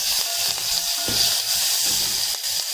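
Green chilies and curry leaves fry in hot oil for mango dal and rasam, making a continuous near crackling sizzle with soft spitting pops, no voices.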